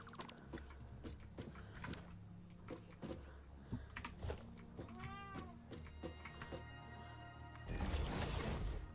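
A pet cat called Mariner Kitty lets out a short, drawn-out meow at mid-distance, over a busy bed of factory-building game sounds from Satisfactory.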